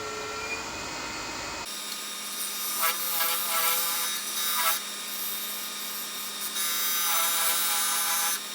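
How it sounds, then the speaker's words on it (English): Wood being cut with a diamond parting tool on a turning lathe, a continuous abrasive scraping with rising and falling surges over a steady motor hum. "I'm changing tools to a diamond parting tool."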